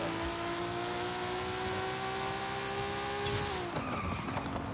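An Autozam AZ-1 in Forza Horizon 5 launches on a drag tune with the e-brake, tires squealing loudly over a high whining engine that shifts abruptly near the end.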